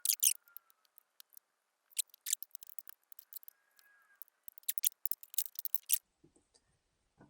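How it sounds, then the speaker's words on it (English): Knife cutting a chuck roast into cubes on a board, heard as a close series of short, crisp slicing and tapping clicks in irregular bursts, with brief pauses between cuts and a soft thump near the end. "I'm going to take this piece here and I'm going to cut it up into"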